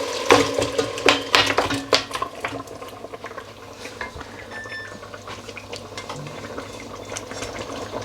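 Cooked lamb paya goes into a pan of browned ginger and garlic, several sharp wet clatters and splashes up front giving way to a quieter, steady sizzle and bubbling.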